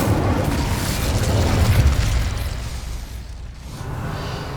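Incendio fire spell cast in Hogwarts Legacy, a loud rumbling whoosh of flame with a boom, surging and then fading, with a low burning roar after it.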